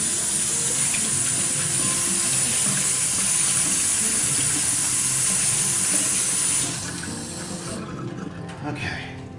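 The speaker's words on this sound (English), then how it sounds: "Now let me wash off my fingers." Tap water running steadily into a kitchen sink as fingers are rinsed off, a loud continuous hiss and splash close by that drops to a quieter trickle near the end.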